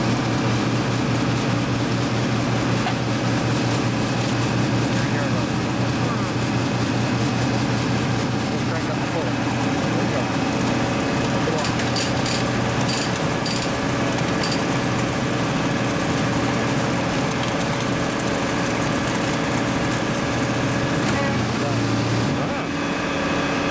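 A Holland flash butt welder's engine runs with a steady, loud low drone and mechanical hum on a CN rail gang, continuous throughout with faint higher clanks partway through.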